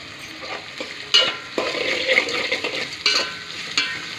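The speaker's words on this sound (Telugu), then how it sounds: "ఇవి కొంచెం వేగాలి వేగిన తర్వాత టమాటా వేసుకుందాం" Carrot pieces frying and sizzling in oil in a pan for a breakfast pasta, with a steady close hiss and intermittent scraping stirs and clinks of a spoon against the pan.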